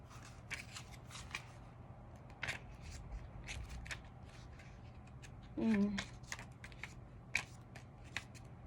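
Oracle cards being shuffled and handled, faint scattered flicks and soft card snaps in a quiet room, with a brief louder rustle near the middle.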